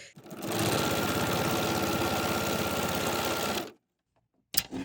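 A BERNINA 990 sewing machine stitches quilt rows together in one steady, fast, close run of about three and a half seconds. It stops abruptly, and a brief knock follows after a pause.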